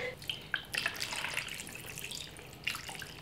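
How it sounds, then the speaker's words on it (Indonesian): Water runs from a tap into a pot of chicken to soak it, a soft splashing trickle with a few sharper drips and bursts, faint and close, with no talking. "Kemudian kita kasih air ya, kita rendam ayamnya sampai terendam."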